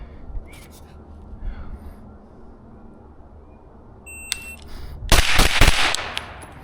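Gunfire at an outdoor shooting range during drills, heard as a tight burst of several loud, sharp reports late on, after a stretch of quiet with a faint electronic beep from a shot timer.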